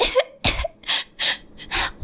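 Six sharp coughs from a child in a row, close and fairly loud, each a short harsh burst separated by brief pauses, with no talking.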